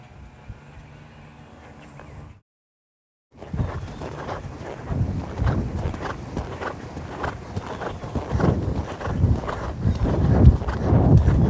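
Horse hooves clip-clop in a steady, near walking rhythm while horse and rider work through tight turns and turnbacks during a training session, a brief silent gap early on, then louder hoofbeats with some wind noise.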